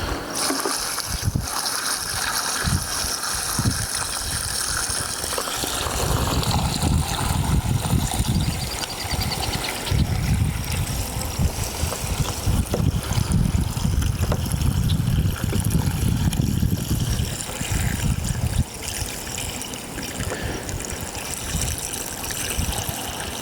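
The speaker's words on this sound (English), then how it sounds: "I'm just gonna water them in real good." Leftover water from soaking cardboard poured onto newly planted trees, a loud gushing and splashing stream that starts after a few seconds, runs steadily for about twelve seconds, then eases to a lighter trickle.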